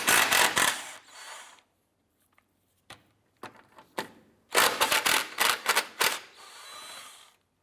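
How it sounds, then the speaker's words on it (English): A ratchet with a 14mm socket loosens the nuts on the forward transmission mount of a 2004–2008 Acura TL, with clusters of quick clicking strokes, close and crisp, separated by short pauses. "Now we're going to go ahead and remove our 2 14mm nuts here on our forward transmission mount."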